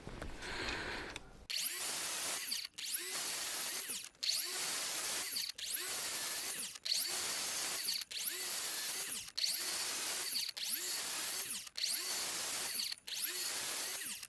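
A Metabo miter saw makes repeated cuts into a wooden door frame, each a loud, steady, high whine lasting about a second, separated by brief pauses, about ten cuts in a regular rhythm, close up and without talk.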